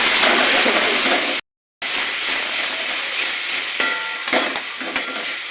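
Water poured into a pan of frying meat khichuri sets off a loud, steady hissing sizzle that cuts out briefly and then continues, easing off toward the end.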